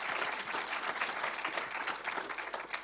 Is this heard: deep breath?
no